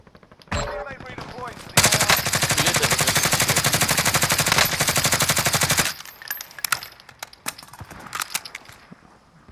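Rapid automatic gunfire from a video game, a loud sustained burst of closely spaced shots lasting several seconds, followed by scattered single shots and clicks.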